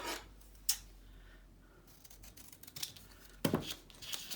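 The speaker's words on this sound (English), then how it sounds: "Scissors." Faint, quiet snips of scissors cutting paper for a collage, a sharp cut early on and a cluster of cutting sounds later, with soft rustling in between.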